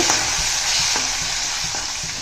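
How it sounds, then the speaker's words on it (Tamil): Green chillies and curry leaves sauté in a pan, a loud continuous sizzle with a spoon scraping and stirring in a few regular strokes, close up and without talking. "பச்சை மிளகாவையும் கருவேப்பிலையும் சேர்த்துக்கலாம் சேர்த்து அதையும் ஒரு வதக்கு வதக்கிட்டு"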